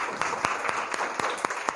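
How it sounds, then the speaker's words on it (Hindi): Audience applause at a guardians' meeting at the Happiness Institute: a short, fairly soft burst of many hands clapping, with sharper individual claps standing out from the steady patter. "इसके लिए सभी लोग तालियां बजाइए प्लीज"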